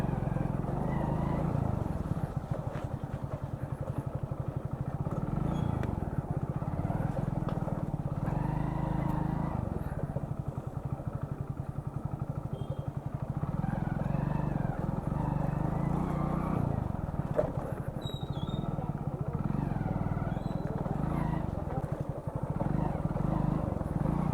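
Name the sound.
motorcycle riding, partly through water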